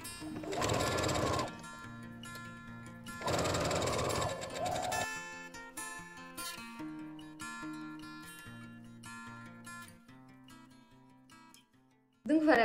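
A sewing machine stitches fabric for a Rose blouse from Atelier Bernie, running in two short, steady bursts near the start and then falling quiet, with soft tonal music continuing underneath.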